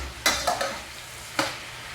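Cabbage stir-fries in oil for lo mein, with a low background sizzle broken by a few sharp scraping stirs in a pan.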